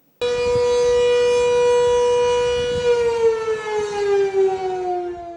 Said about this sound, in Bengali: এই সাইরেনের আওয়াজ স্থানীয় বাসিন্দাদের জন্য অগ্ন্যুৎপাতের সতর্কবার্তা।